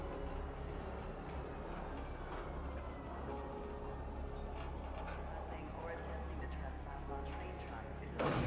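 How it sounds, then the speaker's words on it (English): A space bullet train in the game Star Citizen runs at around 120 miles an hour, giving a steady, loud low rumble with faint rattling layered over it and a brief louder burst right at the end. "That's our space bullet train"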